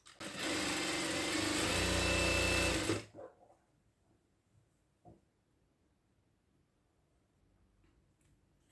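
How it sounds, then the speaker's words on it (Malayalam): A sewing machine stitches elastic for a hijab, its motor humming loud and steady for about three seconds before stopping, followed by faint handling noises. "ഈ ഒരു ഭാഗം സ്റ്റിച്ച് ചെയ്തെടുക്കണം"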